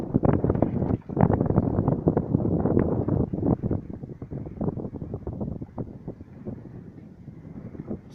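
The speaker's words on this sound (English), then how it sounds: "It's kind of windy, but it's nice." Strong wind buffeting the microphone aboard a small fishing boat at sea off Jamaica, a loud, continuous rumbling roar with gusty pulses throughout.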